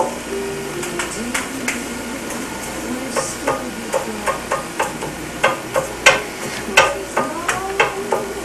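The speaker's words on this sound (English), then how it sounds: "I'm going to flip this now, it's ready." Lefse cooks on a hot griddle with steady sizzling, and a run of sharp taps and scrapes marks the turner working under the flatbread to flip it, close and clear over a constant hum.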